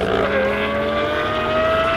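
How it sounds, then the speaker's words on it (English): Lamborghini engine sound effects played through the in-bed speaker of a 2017 Honda Ridgeline, a loud, steady revving drone with a rising tone throughout. "playing Lamborghini sound effects over the in-bed stereo as you drive along in traffic"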